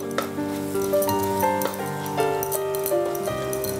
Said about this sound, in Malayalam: ഇങ്ങനെ തിരിച്ചിട്ട് കഴിഞ്ഞിട്ട് പിന്നെ സ്ക്രാമ്പിൾ പോലെ ഇങ്ങനെ ചെറുതായിട്ട് ഇങ്ങനെ ഇളക്കി അതിനെ ചെറിയ പീസസ് ആക്കുക